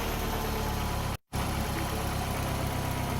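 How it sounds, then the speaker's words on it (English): A car engine rumbles steadily at idle, cuts out for a split second, then catches again and keeps running in a loud, even drone. "We'll fire the engine up."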